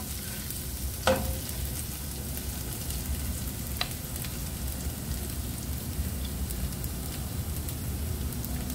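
Garlic sautés in a pan with a soft, continuous sizzle and a couple of faint utensil taps, quiet and close, without talking.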